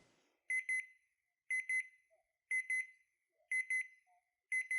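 A game show time-up clock alarm sounds in five evenly spaced double beeps, loud, bright and electronic, each pair separated by silence, with no talking.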